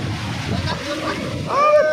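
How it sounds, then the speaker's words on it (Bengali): Sea waves at Digha wash and rumble in a low, churning surge, ending with a brief high tone over the water noise. "কত সুন্দর ঢেউ আসছে দেখতে পাচ্ছ"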